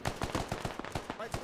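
Gunfire in the tactical shooter video game SquadOps: a rapid string of even, fairly quiet shots in steady automatic rhythm, with a commentator's voice underneath.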